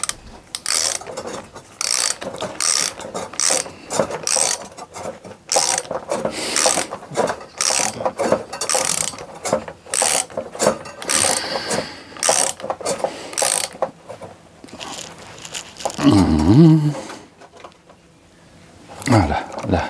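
A brake pipe flaring tool's large screw is tightened down to its stop, giving repeated ratcheting clicks in a steady rhythm, close and fairly loud, with someone speaking French over much of it.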